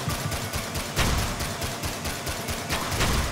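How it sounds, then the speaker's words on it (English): The Commando fires a shotgun in Risk of Rain Returns: a rapid, regular stream of punchy blasts, with a few heavier booms standing out in the clatter. No one speaks. "the shotgun is devastating"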